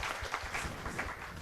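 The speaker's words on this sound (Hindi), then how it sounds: "तालियां बच्चों के लिए" A university event audience applauds students, a steady dense wash of many hands clapping at moderate loudness that fills the moment without pause.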